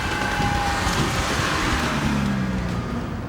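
A 1986 Honda CRX drives along as heard from inside the cabin, a steady muffled engine hum mixed with road noise, the pitch shifting slightly as it moves.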